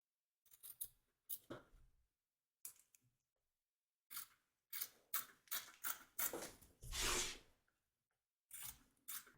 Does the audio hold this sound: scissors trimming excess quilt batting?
yes